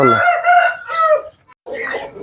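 An 11-month-old Aseel rooster crows loudly and close by, a long harmonic call, then after a short silence a rougher second call follows.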